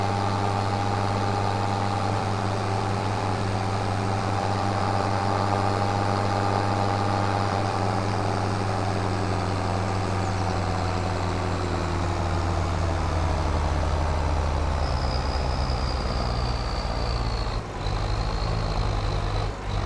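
Tractor engine in the Farming Simulator 25 video game, a steady loud droning hum under load while climbing a hill, continuous throughout with a faint higher whine appearing late.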